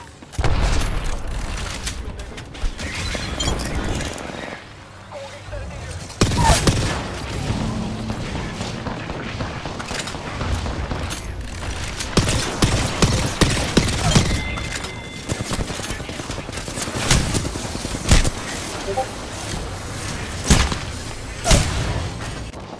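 Video game battle gunfire in a ranked match, with dense bursts of shots, booms and heavy thuds going on throughout, loud and close, with occasional brief voice lines.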